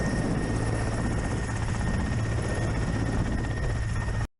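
A military helicopter's rotor chop and engine roar in Ukraine war combat footage, loud and steady throughout, cutting off abruptly at the very end.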